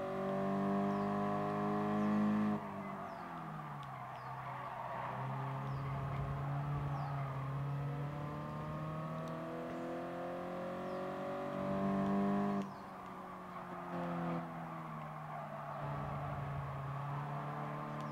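Race cars in the Gran Turismo Sport video game, Toyota pack racing, with engines revving and accelerating steadily through gear changes, a continuous loud drone with rising and falling pitch and no talking.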